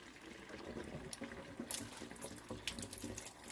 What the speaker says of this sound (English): So I'm going to cut the water off and wrap this up.